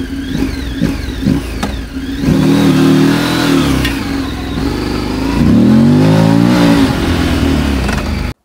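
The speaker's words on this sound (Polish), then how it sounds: "Chociaż nawet nie tak bardzo słychać wydech, jak zasysane powietrze z kolektora dolotowego." A Morbidelli MBP T1002VX one-litre motorcycle engine revs up and down repeatedly, with a strong intake roar louder than the exhaust rumble, rising in pitch during each throttle blip.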